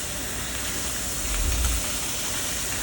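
Butter added to a hot pan beside seared skate fish, giving a loud, dense, continuous hiss and sizzle with a brief low thump partway through.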